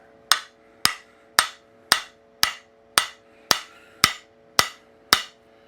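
Ten sharp, evenly spaced strikes ring out on a Maine Jersey pattern axe head, each a loud metallic knock that decays quickly, about two per second, close and alone.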